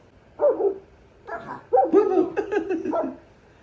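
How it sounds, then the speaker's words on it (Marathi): A dog barking sound from a smart speaker repeats several times in short bursts, close and fairly loud, with no one talking over it. "कुत्ते की आवाज निकालो"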